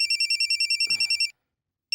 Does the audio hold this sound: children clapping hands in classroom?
no